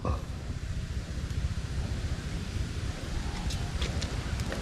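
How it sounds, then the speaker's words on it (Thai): A strong, stormy wind buffets the microphone in a constant, heavy rumbling roar while a Thai chula kite is flown, with faint rustling and no clear voices. "ลมแรงมากนะ ลมพายุเลยวันนี้"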